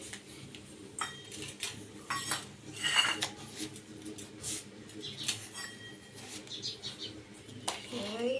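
A spoon scrapes and clinks against a bowl while mixing wheat flour, ghee and jaggery, with irregular close taps and rattles throughout and faint background voices.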